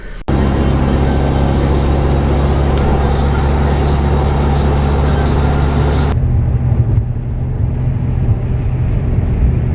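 A Hyundai Genesis Coupe engine drones steadily with road rumble throughout while driving up a mountain, the tone shifting partway as the cabin noise changes.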